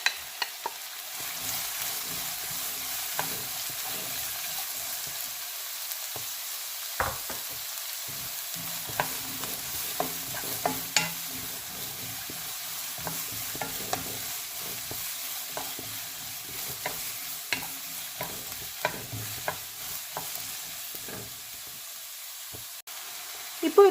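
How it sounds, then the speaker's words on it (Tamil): Onions and green chillies sizzle steadily in a pan for fish puttu, with a constant frying hiss broken by irregular scraping and clicking of a spoon as the mixture is stirred. "இப்போ இந்த வெங்காயம் கலர் மாறுறது வரைக்கும் நாம் இதை நல்லா வதக்கிடலாம்."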